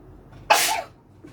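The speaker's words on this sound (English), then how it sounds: "I'm going to sneeze." A single sharp sneeze bursts out close and loud, decaying over about a third of a second, in an otherwise quiet indoor room.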